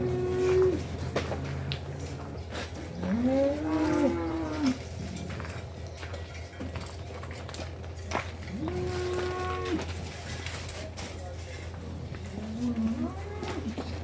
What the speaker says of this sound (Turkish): Yani simental hayvanlar genelde uysal oluyor ama bu yerli sığır diyorlar buna.